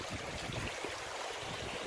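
A stream on a walk in New Zealand runs with a continuous soft rushing and trickling, steady and fairly quiet throughout.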